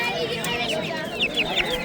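Roosters and hens at a busy poultry market in Quva, with short clucks and a few brief crowing calls rising over steady crowd chatter and nearby talk.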